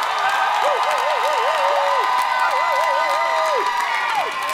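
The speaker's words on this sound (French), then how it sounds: "Continuez d'applaudir." A live comedy audience at a Quebec show applauds and cheers loudly and continuously, with whoops and excited shouts rising over the clapping.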